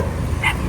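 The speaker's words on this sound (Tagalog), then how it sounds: "Ang dami mong aso." A single short dog bark, one of several dogs around a home, brief and somewhat distant against a low background rumble.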